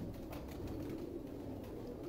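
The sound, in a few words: pigeon cooing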